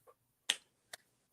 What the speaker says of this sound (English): Pity clap.